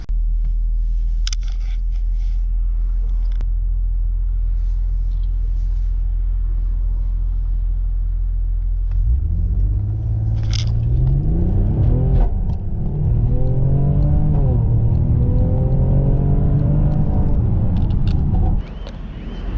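A Mercedes GLE 43 AMG with a 3-liter bi-turbo V6 and 4MATIC all-wheel drive: a low steady cabin rumble, then a loud engine surge with rising and falling revs through several gear changes, close and sustained.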